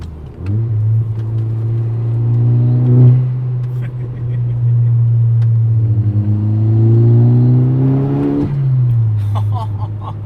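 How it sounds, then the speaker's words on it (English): A Mk6 Volkswagen Golf R engine revs up twice in long rising pulls, each climb ending in a drop, with a faint whistling turbo spool whine layered over the engine drone. "That turbo spool is just so good."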